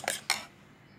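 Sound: beating eggs with preserved radish in a bowl

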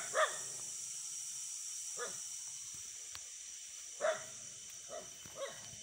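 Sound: dog barking

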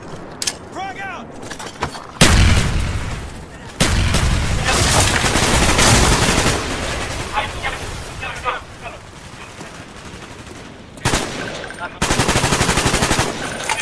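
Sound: frag grenade explosion and gunfire in a video game

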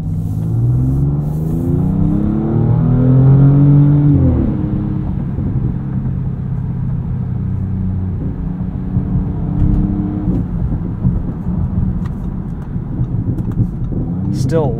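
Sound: 2023 Audi S6 exhaust while driving at night

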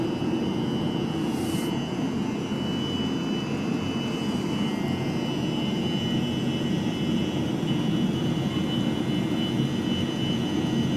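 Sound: Webasto diesel heater running in a garage

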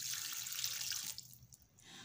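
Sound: water poured into camel karahi pot

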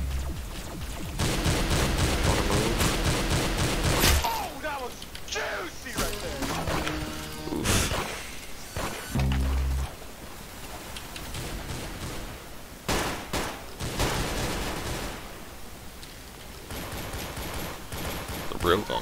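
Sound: gunfire in a video game

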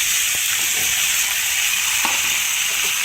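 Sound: ridge gourd pieces frying in tempering

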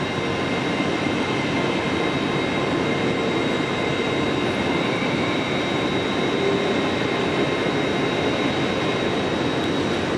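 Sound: high-speed train passing through

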